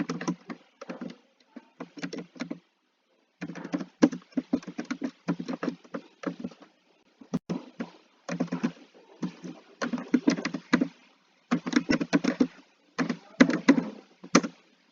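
Fast bursts of clicky keystrokes on a computer keyboard, typed in short runs with brief pauses between, close and fairly quiet, no talking.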